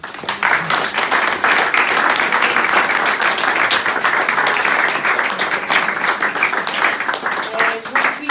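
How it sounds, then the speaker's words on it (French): An audience applauds at a bilingual book and arts event, the clapping steady and loud throughout with voices mixed in underneath. "Alors il faut les applaudir pour cette initiative formidable"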